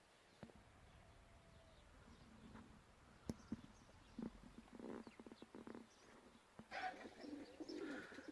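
Pigeons coo softly in low, intermittent calls, with scattered rustles and flutters in a quiet outdoor setting.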